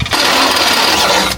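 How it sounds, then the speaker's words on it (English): A steady, high-pitched power drill whine drilling guide holes on a 1988 Dodge Raider runs continuously for over a second, close and loud, then cuts off abruptly. "So now we're just gonna drill 2 guide holes and then we'll drill them in after."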